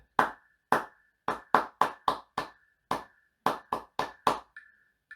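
Crisp hand claps in a syncopated rhythm pattern during a tenor trombone lesson: about a dozen sharp, close claps with short and long gaps, and a faint tone at the very end.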